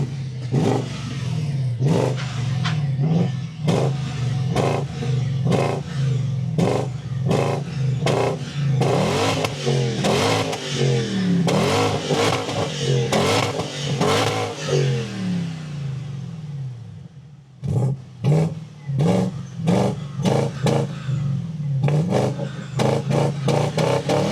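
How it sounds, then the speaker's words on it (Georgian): A BMW X5 4.8is with a 360 hp V8 is revved repeatedly, giving loud, sharp throttle blips in a quick series, then a brief lull before another run of punchy revs, close up with no talking. "ეს ხმა ქარხულ მანქანაში არის ყველაზე მაგარი, იმიტომ რომ 8 ცილინდრიანი ძრავი დევს, 360 ცხენი აქვს"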